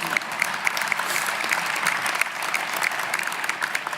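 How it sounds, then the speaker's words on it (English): Legislators and guests at the organization session of the New Jersey General Assembly clap steadily, a dense, even patter of many hands lasting the full few seconds with no voices on top. "You can clap for that, that's okay."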